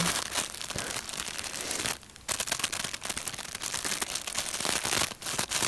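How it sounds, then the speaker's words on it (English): Small crinkly plastic bags holding bracelets and necklaces, handled up close with dense crackling and rustling, one brief pause partway through. "I love the sounds of the little crinkly bags."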